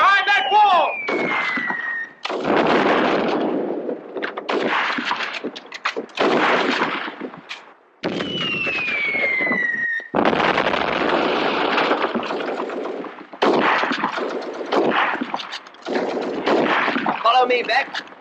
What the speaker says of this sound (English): Firing from behind that wall!